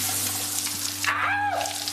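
Warm shower water running steadily in a bath in Starnberg, a loud continuous hiss close by, with a brief squeak partway through and no talk.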